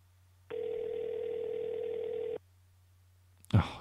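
A phone in the video game Sally Face rings once as a steady electronic tone of about two seconds, unanswered, followed by silence and then a short burst of noise.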